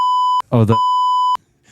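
Two loud electronic beeps from an electric car, each a steady tone about a second long and then another short one, with a burst of speech between them.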